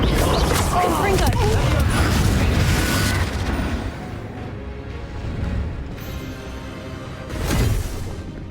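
Confringo explosion spell cast in Hogwarts Legacy, a burst of loud booming blasts at the start that fades into rumbling debris, followed by a smaller late burst, with voices talking amid the noise.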